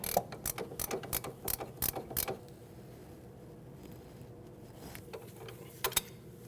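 A wrench ratchets on a sway bar link nut on a 2012-2016 Honda CR-V, giving a run of quick clicking strokes, then a pause and a couple more clicks near the end, close up with no talk.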